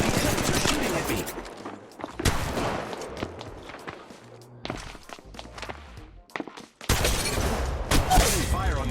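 Gunfire in Apex Legends Mobile, with rapid bursts and single shots mixed with footsteps and thuds, loud and close, shifting between dense volleys and brief pauses.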